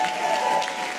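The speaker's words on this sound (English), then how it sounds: "How about a big round of applause for our friend Chris Johnson" A studio audience claps briefly, a dense patter of applause with some whooping, lasting about a second.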